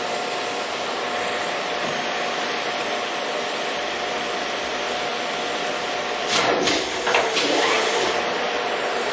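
A Devlieg precision horizontal boring mill running its spindle at 33 RPM, a loud, steady mechanical whir and hum with a brief scraping rise near the end, close and continuous without talk.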